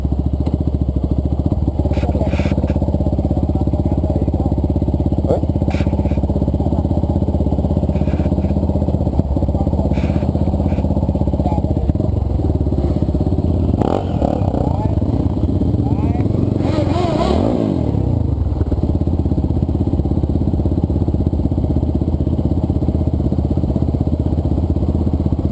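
A Yamaha Tenere 250 motorcycle idling with its exhaust missing the tip, a steady close engine drone running throughout with a brief louder swell midway, and a voice speaking over it.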